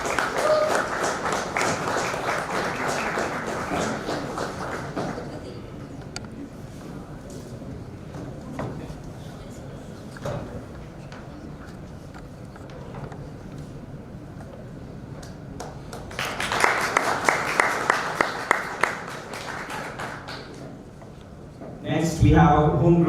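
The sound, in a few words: audience applause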